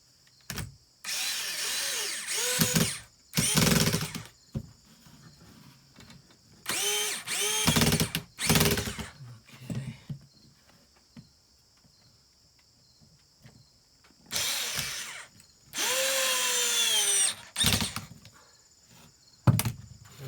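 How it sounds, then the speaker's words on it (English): A power drill driving screws into an old replacement porch board, several loud bursts of high whirring, some short and some longer, separated by quiet pauses with faint outdoor background and insects. "pull it up tight, and then screw it in"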